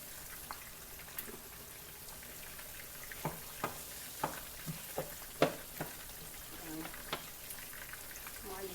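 Pondu ingredients fry in a pan, a faint, low sizzle broken by scattered sharp pops and light clacks that bunch up midway.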